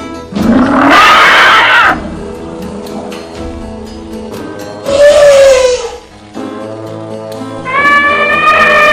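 Elephants at a rejuvenation camp trumpet and rumble in loud, long bursts, several calls spread across the stretch with quieter low sounds between them.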